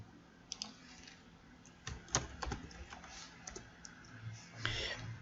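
Computer keyboard typing a folder name, a close run of irregular key clicks over a steady low hum, with a few heavier strokes, and no talk.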